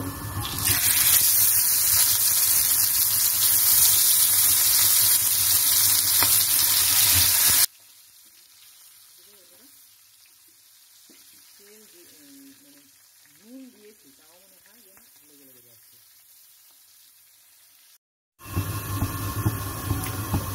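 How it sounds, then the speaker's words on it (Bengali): Turmeric-coated koi fish crackle loudly in hot oil, a dense, close sizzle that stops abruptly and gives way to a quiet stretch with a person talking softly, then the loud frying resumes at the end. "এখন আমি একে একে এটা ভাজছি"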